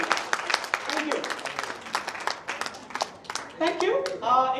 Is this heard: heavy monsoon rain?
no